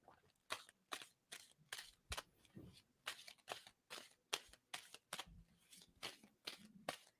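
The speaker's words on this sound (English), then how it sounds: "And I'm going to stop shuffling." Playing cards being shuffled over and over, a regular train of crisp, close slaps and riffles that repeat about twice a second, fairly quiet and with no talk in between.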